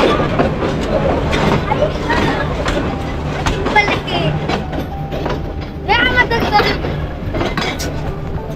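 Steady rumble of the Agnibina Express train running on tracks in the rain in Bangladesh, with rattling and occasional clinks, while people talk nearby throughout.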